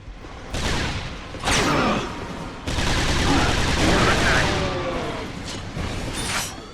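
Sci-fi ion weapon in the shooter game Resistance firing ion bursts, heard as several loud, harsh blasts in quick succession, each dropping away into a short noisy decay, with a voice talking underneath.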